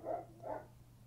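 A dog gives two quick, soft barks in succession, faint and indoors, with nothing else around them.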